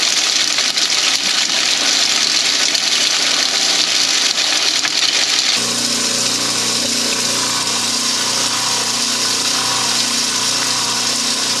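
A K&M rock crusher grinding high grade gold ore gives a loud, continuous mechanical roar with gritty rattling that shifts in tone partway through, steady and close.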